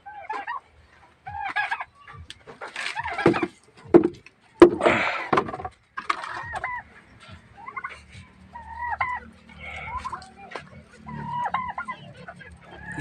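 Several turkeys gobble repeatedly in bursty, rippling calls, close and fairly loud, with other fowl clucking and a few knocks and thumps mixed in at a simple rural home.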